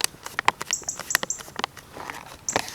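Rain falls at a rural campsite with cows nearby, scattered drops pattering irregularly in soft, close taps at a fairly low level.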